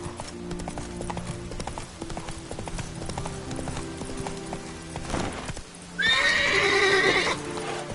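Horse hooves clip-clopping at a gallop in The Witcher 3 on PS5, a steady close rhythm of hoofbeats that ends in a loud, drawn-out neigh near the close.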